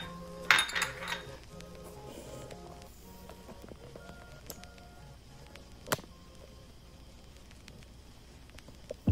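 A metal pot shifted across a home stovetop, with a sharp clink and scrape near the start and a few lighter knocks after, then quiet kitchen background.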